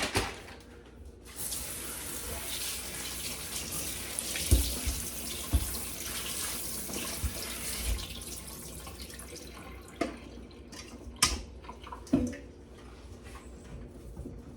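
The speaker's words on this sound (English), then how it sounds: "I'm going to start by rinsing off some potatoes." Water runs steadily from a tap with splashing and occasional knocks and thuds as potatoes are rinsed under it, close and fairly loud, no talking.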